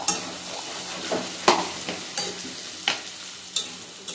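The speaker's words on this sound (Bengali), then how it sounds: "এই যে দেখতে পাচ্ছ হলুদ দেওয়া হয়ে গেছে এবং আমি এটাকে নেড়ে নিচ্ছি ভালো করে" A spatula stirs fried rice mixed with turmeric in a pan, scraping in sharp, regular strokes about every second over a low, steady sizzle, close and fairly loud with no voices.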